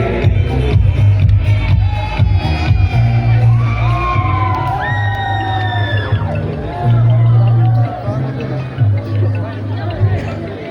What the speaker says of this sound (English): So once again, can we have a big round of applause for him?